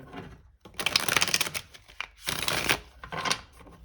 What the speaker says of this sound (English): Do one last shuffle here